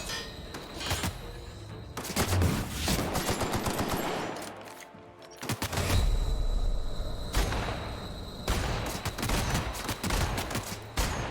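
Rapid bursts of automatic gunfire fill The Outer Worlds combat, dense volleys with short pauses around two and five seconds, loud and close throughout with explosive thumps mixed in.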